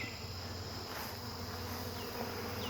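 Honeybees in a package make a steady, dense, continuous buzz, close and even throughout, with no speech.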